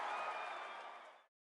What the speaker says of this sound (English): as this crowd goes crazy.